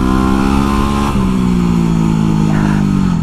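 A dual sport dirt bike engine drones loud and close while being ridden, its pitch dipping and then climbing again under a wash of wind rush.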